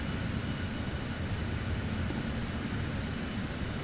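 An add-on airplane from the marketplace, flown in Microsoft Flight Simulator 2024 on PS5, gives a steady, loud engine drone that stays constant throughout with no talking over it.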